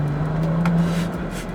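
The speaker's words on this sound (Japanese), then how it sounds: "ダブル12気筒の重さを感じさせないね吹き上がりが今回のこのコンチネンタル GT のすごいこの革新的なこの変化" Bentley Continental GT with its W12 twelve-cylinder engine revving hard under acceleration, a steady loud drone with a rising pitch at the midpoint, heard from close by with no talking.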